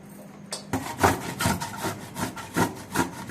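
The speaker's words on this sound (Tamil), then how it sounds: "இந்த மாதிரி திருவி எடுத்துக்கணும்" Raw mango rubbed against a hand grater makes rhythmic rasping strokes about every half second, close and fairly soft, starting after a brief quiet moment.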